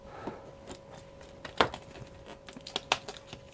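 Set of keys jangling and clinking up close, several sharp metallic jingles in irregular bursts over a few seconds, no talking.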